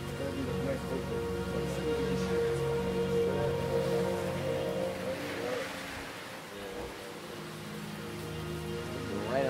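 Rain falling on a porch makes a steady patter and wash under soft background voices and a low sustained hum, continuous throughout at a moderate level.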